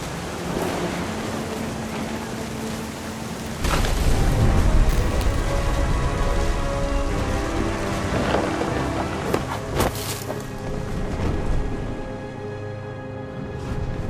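Steady heavy rain pours through a thunderstorm in the game What Remains of Edith Finch, with a deep rolling thunder boom partway in and a few sharp cracks later, all without speech.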